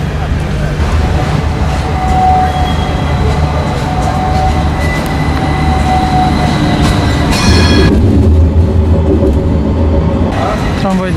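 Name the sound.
tram on Istiklal Street, Istanbul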